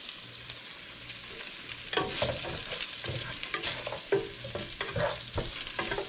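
Bacon crisping in a pan for fried rice with Chinese sausage and eggs, a steady sizzle under repeated scraping stirs of a utensil against the pan, close and moderately loud.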